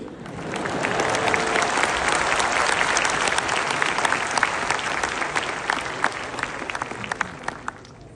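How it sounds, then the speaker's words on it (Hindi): Sustained audience applause at a youth leadership event in India, a dense steady wash of many hands clapping throughout with scattered louder individual claps standing out near the end. "ये मध्य प्रदेश वाले अकेले ताली क्यों बजा रहे हो?"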